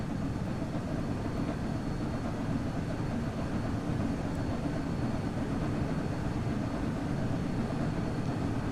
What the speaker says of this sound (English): This is a very noisy train, so I can turn it down a little bit.